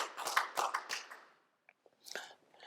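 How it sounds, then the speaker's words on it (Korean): A church congregation at an Easter worship service claps in a short burst of applause that fades out, followed by a brief second flurry of clapping. "우리 하나님께 영광의 박수 돌리겠습니다."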